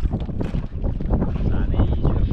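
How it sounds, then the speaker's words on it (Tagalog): Gusty wind buffets and roars against the microphone in uneven surges, loud and close, with no clear voices. "Medyo malakas ang hangin."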